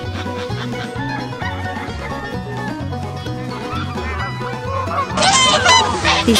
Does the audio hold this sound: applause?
no